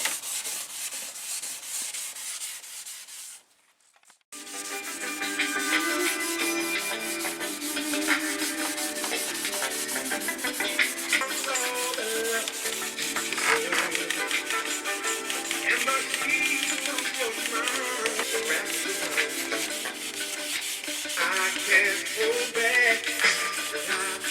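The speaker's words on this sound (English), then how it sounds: "Paint ain't gonna burn and nothing slick, so you're gonna have to put scratches in it." New paint on a Chevy Silverado OBS 1500 shortbed truck being scuffed by hand, a steady rasping rub that goes on for about twenty seconds after a brief pause near the start, close and even, with no talking.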